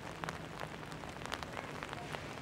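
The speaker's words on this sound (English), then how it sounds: "the rain has made the surfaces treacherous" Rain falls on outdoor raised stages, a soft, steady patter of drops hitting hard surfaces with scattered sharper taps, moderately quiet and constant with no talking.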